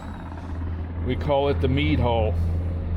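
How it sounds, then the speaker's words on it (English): A Navy helicopter flying overhead near a fishing boat offshore of Jacksonville, Florida, its steady low rotor drone running throughout beneath someone talking. "Sorry about the helicopter."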